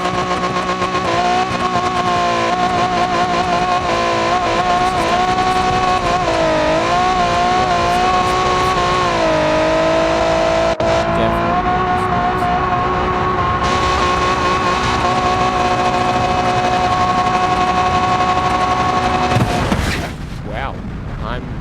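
A car engine in the Automation game tears down a drag strip on nitrous, a loud sustained drone with rising and falling harmonics throughout, then cutting off abruptly near the end.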